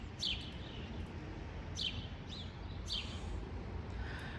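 A few short bird chirps ring out at intervals over a constant low rumble of wind or distant traffic.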